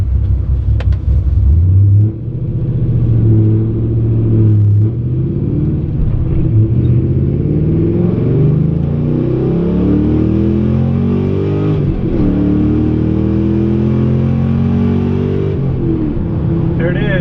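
A Pontiac GTO without nitrous pulls hard in second gear from 30 to 80 mph, its engine a loud, close rumble climbing steadily in pitch over a long run, with a voice talking over it at points.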